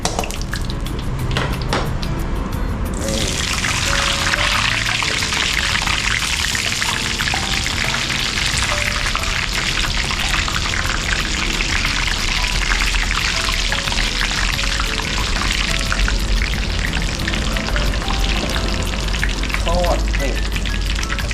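Fingerroot and lemongrass leaves dropped into hot oil for herb-fried trout, a sudden loud crackling sizzle that holds steady and dense for about twenty seconds, close up, with a few clinks at the start and no talk.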